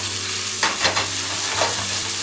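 Beef filets seasoned with salt and pepper searing in a hot pan, a steady close sizzle with a few brief louder crackles and a faint low hum underneath, no talking.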